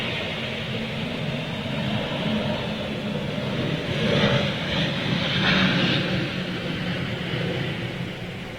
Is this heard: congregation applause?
no